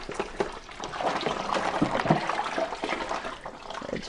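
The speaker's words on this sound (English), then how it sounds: "now I'm just rinsing out the soap suds from the bowl" Tap water runs and sloshes in a Thermomix TM6 bowl as soap suds are rinsed out, a moderate, uneven splashing with gurgles, close by and without speech.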